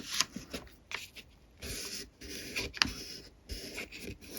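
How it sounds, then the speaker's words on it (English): Paper is folded and creased for an origami Japanese tato box, with close, brisk rustles and sharp creasing swipes in short bursts. "Unfold it, turn it round, fold it up to the middle"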